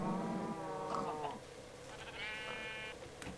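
A sheep in the Minecraft video game bleats several times in quick succession, clear and close, with a higher bleat near the end and no talking.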